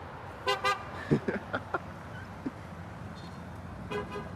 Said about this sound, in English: Another person honking.